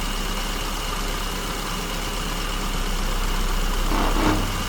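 Classic car engine with an SU carburetor idling steadily and close by, its speed dipping slightly near the end as the lift pin is raised and the mixture leans out; no talking.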